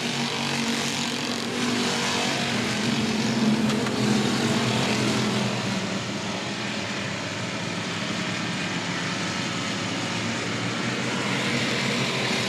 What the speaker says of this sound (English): Jamie Deere now out front by himself, going to lead lap number 4